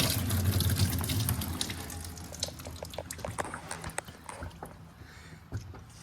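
Coolant pouring out of a Mk7 Golf heater core, a gushing stream at first that thins into irregular splashes and drips, fairly close and without talk.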